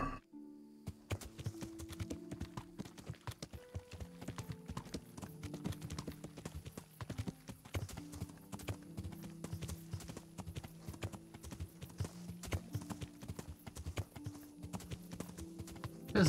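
Horse hooves clip-clop in a steady galloping rhythm in the Kingdom Come: Deliverance video game at night, close and continuous for the whole stretch, with game music tones running underneath.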